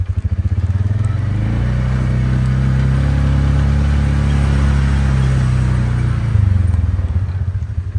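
Vehicle engine idling and driving slowly on a farm, a loud, close, steady low rumble with a rhythmic throb, swelling slightly toward the end; no talking.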